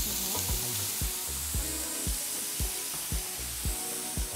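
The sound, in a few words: onions frying in a pan for paella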